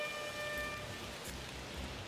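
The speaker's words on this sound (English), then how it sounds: "Oh, is it raining? I feel like it's raining." Steady rain falls in the video game Shenmue III, a broad even hiss that runs through the whole moment with faint tonal lines fading early, and no talk over it.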